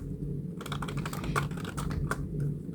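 Rapid clattering keystrokes on a computer keyboard while entering spreadsheet data for an Excel exam exercise, fairly close and steady, with no speech.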